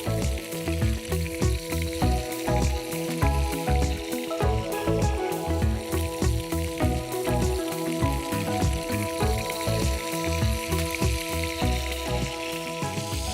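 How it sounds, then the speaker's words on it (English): Duck meat sizzles steadily in a hot pan, a close, continuous crackle and spit of frying fat with no talking. "The duck will sizzle up nicely"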